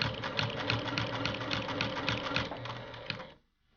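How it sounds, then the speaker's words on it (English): A sewing machine stitches binding along the folded edge of a quilt, a fast, even mechanical chatter running steadily for about three seconds before stopping abruptly. "Now I'll begin stitching right at the fold and continue down the next edge of the quilt."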